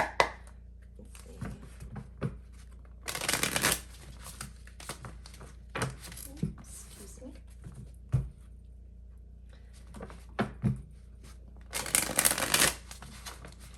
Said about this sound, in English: So I'll go ahead and get shuffling real quick